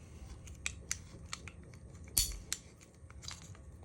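Cutters snipping the leads off 10 mm LEDs, a series of sharp, quiet clicks and snips at irregular intervals, close up, with one louder cut near the middle and no talking.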